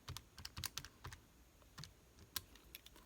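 Quiet, close computer keyboard typing, sparse individual clicks and small clusters of keystrokes spread unevenly over a few seconds, no voices.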